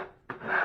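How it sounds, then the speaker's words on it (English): A drywall knife scrapes across a textured wall being prepared for skim coating, one short rasping stroke that starts softly and then rises into a louder, close, gritty scrape. "Just go and scrape everything."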